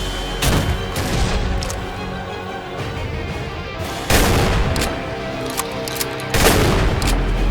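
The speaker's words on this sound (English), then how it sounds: "Don't think the shotgun is a good choice, though." Repeated gunfire from a shotgun in the Ashes: Afterglow video game, loud blasts and heavy bursts coming one after another over a dense, continuous battle din, with sharp louder shots near the middle and the end.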